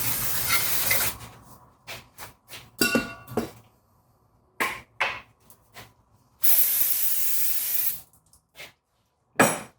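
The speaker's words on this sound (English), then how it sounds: "Grab your can of brake clean, and you want to clean this surface off." Brake cleaner sprayed from an aerosol can onto Chevrolet Equinox brake parts during a brake replacement, a series of sharp hissing bursts of varying length, one long sustained spray, separated by silences and a few clinks.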